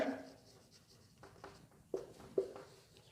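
Pen or marker strokes as a teacher writes an example sentence on a board during a grammar lesson, a few short scratchy strokes, close and fairly quiet, with no talk.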